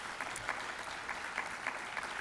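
An audience at a climate and community summit session applauds steadily, a dense even clatter of many hands heard from across the room.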